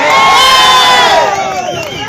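A political rally crowd of party supporters roars and cheers loudly, a dense wall of shouting voices with rising and falling whoops that fade slightly toward the end.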